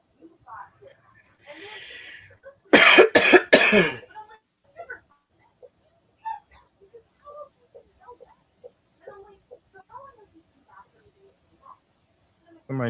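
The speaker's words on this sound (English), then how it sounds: "They coughing and like we hear something in the background." A quick burst of coughs, three or four sharp hacks close to the microphone, breaks through faint scattered background noises and murmurs.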